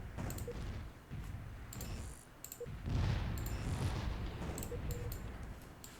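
Space warships fire their weapons in a fleet battle in the strategy game Distant Worlds Universe, giving scattered bursts and rumbling impacts over a dense low battle drone, with high clicking blips layered on top.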